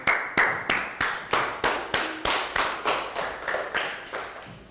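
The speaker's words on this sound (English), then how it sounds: "Let's have a round of applause for our friends." Rhythmic clapping from a Year 3 primary classroom, roughly a dozen evenly spaced claps over a few seconds, close and fairly loud, with no talk over it.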